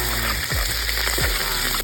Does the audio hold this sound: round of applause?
no